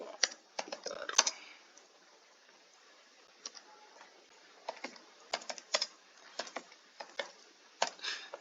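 Fingers tap a computer keyboard in short, irregular bursts of light clicks, quiet and close, with pauses between the runs.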